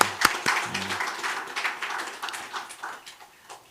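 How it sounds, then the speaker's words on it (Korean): A short burst of clapping from a church congregation at a Friday prayer meeting, thanking the worship team. It opens with a few sharp claps and then settles into soft, uneven clapping that fades. "박수"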